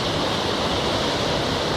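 The Teberda river rushing past in the mountains, a loud, unbroken roar of flowing water heard close by, with no voices.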